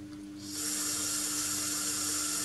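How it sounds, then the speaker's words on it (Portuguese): Tap water runs steadily into a bowl as six small gelatin sheets go into cold water for passion fruit mousse, a constant close hiss beginning after a soft start, with no talking. "Estas são 6 pequenas, que vou já pôr em água fria"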